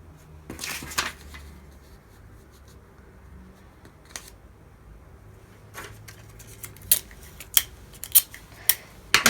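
Tape being cut for assembling a quilt pattern, with sharp scissor snips and crisp tape crackles in short bursts, a cluster near the start and quicker clicks toward the end over a quiet background.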